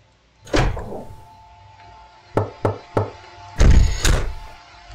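In a horror video game, knocks land on a door: a heavy thud, then three quick raps in a row, then two more heavy bangs, loud and close in an otherwise quiet room.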